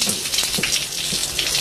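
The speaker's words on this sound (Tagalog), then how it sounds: "Lakas ng ulan." Heavy rain pouring down steadily in America, a dense close hiss with scattered louder drips and splashes.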